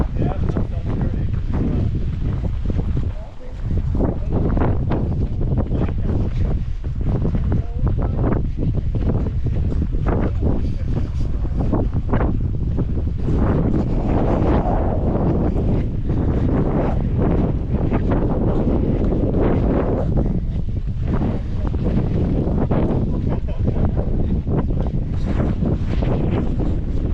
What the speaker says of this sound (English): The wind moving the sand.